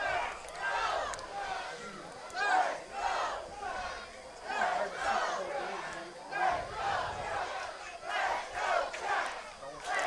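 A home crowd at Athletic Park in Madison cheers and chants in rhythmic swells during a summer-league baseball game between the Madison Mallards and Wausau Woodchucks, loud and sustained with surges of voices.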